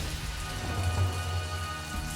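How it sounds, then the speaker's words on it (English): Heavy rain pouring down at a Lithuanian port rail yard where potash trains wait to load, a dense and steady close hiss of rain that fills the whole stretch without pause. "It's raining, so we can't load at the moment."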